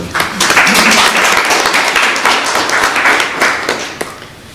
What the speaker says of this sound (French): Oh, ça s'applaudit.